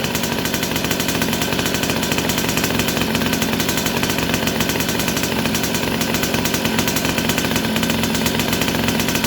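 A chainsaw engine runs loud and close with the throttle raised, a harsh continuous two-stroke buzz held steady after an oil pump change.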